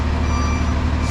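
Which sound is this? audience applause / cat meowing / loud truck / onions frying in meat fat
loud truck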